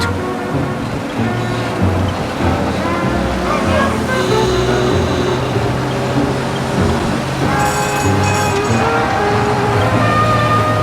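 A car engine in the video game Mafia: Definitive Edition drones steadily throughout with loud music or game audio layered on top, a continuous busy roar with no pauses.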